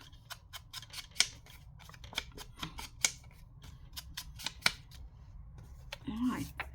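Scissors snip paper for envelope pockets in a quick series of sharp, close cuts, each a crisp separate click, with a short bit of rustling handling at the end.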